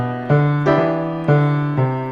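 Walking bass line on a sustained, piano-like bass instrument, four clear evenly spaced notes aimed at the third of each chord, loud and close with no talk.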